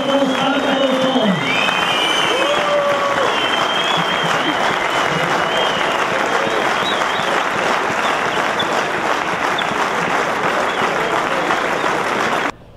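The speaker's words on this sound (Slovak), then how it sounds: "Takže naozaj teraz veľký aplauz dajte všetkým výrobkom Spartakovcom." Stadium crowd at a Spartak football farewell, applauding departing players: dense, sustained clapping with scattered whistles and cheers, loud and continuous throughout before cutting off at the end.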